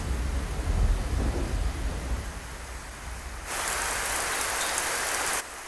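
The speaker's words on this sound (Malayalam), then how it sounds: "മഴ ഇപ്പൊ ഇവിടുന്ന് വന്നു കറണ്ടും പോയി" Rain falls hard in a scene from a Malayalam film, a low rumbling wash at first, then a bright, dense hiss of downpour that swells loud for a couple of seconds before cutting back.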